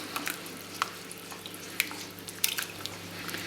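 Lemon zest and gelatin mix being stirred into a pot for lemon panna cotta, heard as faint, scattered spoon scrapes and light clicks over a quiet background, with no talking.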